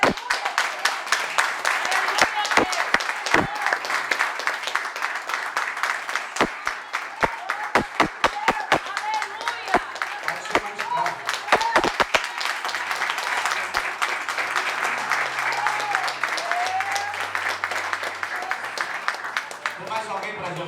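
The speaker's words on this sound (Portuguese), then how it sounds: "Aplauda Jesus." A church congregation breaks into applause at a missionary worship service, sustained clapping filling the whole stretch with sharp individual claps standing out, a preacher's voice and crowd murmurs mixed underneath.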